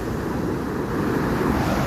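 Sea waves surge onto the shore in a steady, loud, broadband roar mixed with wind buffeting the microphone, with no one speaking.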